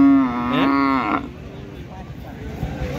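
A Holstein Friesian cow at the Taherpur cattle market gives one loud, close, drawn-out moo that rises and falls, followed by quieter market background noise.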